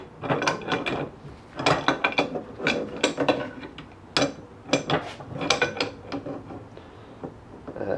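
A wrench snugging up a part on a Chicago-built Schwinn bicycle, bursts of sharp metallic clicking and ratcheting in quick irregular clusters, close and fairly loud.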